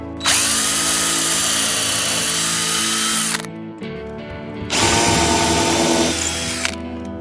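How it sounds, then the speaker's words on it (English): A power drill whines loudly in two long bursts, pre-drilling holes in the side of wood, pausing briefly between them, close up with no talking. "I'm going to pre-drill all my holes on the side so it doesn't split."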